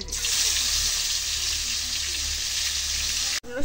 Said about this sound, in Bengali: রসুন ভাজা হয়েছে